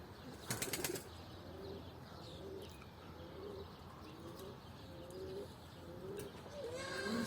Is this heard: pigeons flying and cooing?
yes